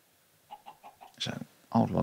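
Minecraft chickens clucking in a short series of soft, evenly spaced clucks, then a burst of louder, rougher fowl noise near the end.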